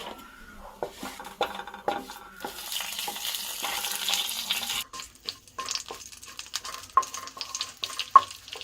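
Panch phoron and a dry red chilli crackle in a small amount of mustard oil in a kadai, with a brief swell of sizzling in the middle and scattered clinks and scrapes of a spoon around it.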